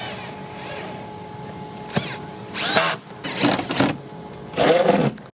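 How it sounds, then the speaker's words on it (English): A power drill drives door panel screws back in on a 2002-2008 Dodge Ram during a tow mirror install, in several short whirring bursts separated by pauses and faint clicks, close by. "Just go ahead and screw the door panel screws back in."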